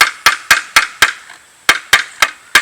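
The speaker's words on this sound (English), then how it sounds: "I'm going to peck on it with the hammer to drive it out the back." A hammer pecks at the seal tabs on a 1979 Evinrude 9.9 HP outboard lower unit, giving sharp metallic taps in a quick even rhythm, five strikes, a short pause, then four more, loud and close.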